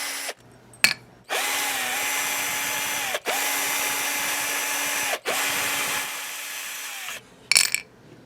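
A power tool spins out the strap button on a Firefly Bo Diddley-style guitar body in three sustained whirring bursts, each about two seconds long with brief stops between, and small handling clicks come before and after.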